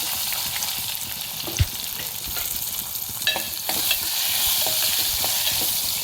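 Onion hitting hot oil with curry leaves and garlic in a pan for a spiced urad dal, giving a steady close sizzle with a few sharp stirring clatters and one loud knock, no talking.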